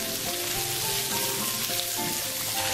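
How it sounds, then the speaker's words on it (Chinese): Scallion, ginger and vegetables stir-frying in hot oil in a wok, a loud steady sizzling hiss with occasional tossing clatters underneath, close and continuous. "锅里热油，下葱姜炒香，再要配菜翻炒至断生"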